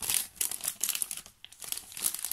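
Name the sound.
small plastic bag of die-cuts being handled, crinkling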